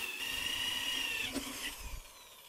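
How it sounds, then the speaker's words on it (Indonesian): A power drill cutting a hole with a 38 mm hole saw bit while building a vertical hydroponic tower, a steady close whine for over a second that then falters and winds down. "lanjut kita lubangi menggunakan mata bor hole saw seperti ini yang 38 mili teman-teman"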